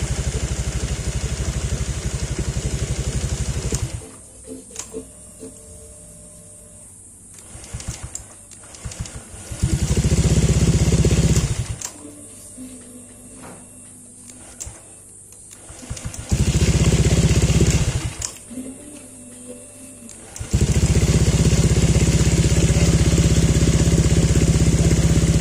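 A Honda Vario 125 LED motorcycle engine is started and runs steadily at close range, shut off and restarted several times. The running stretches alternate with quieter gaps.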